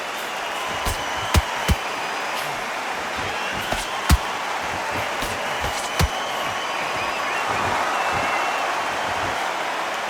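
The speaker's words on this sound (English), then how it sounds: "Crowd here cannot wait. They've been buzzing all day long" Arena crowd at a heavyweight boxing title fight between Usyk and Wilder, a steady broad murmur and roar with scattered sharp claps or bangs rising out of the din, building slightly toward the end.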